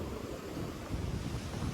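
Rough sea surf pounds Keri beach in Goa during heavy rain, a continuous loud roar of breaking waves with wind buffeting the microphone and no voices.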